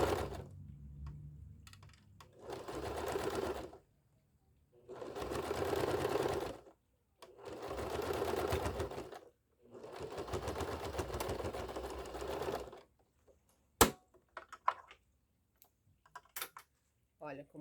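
A sewing machine stitches a synthetic leather wallet lining in four separate bursts of rapid, close, rattling clatter with short pauses between, followed by a sharp click and a few light taps.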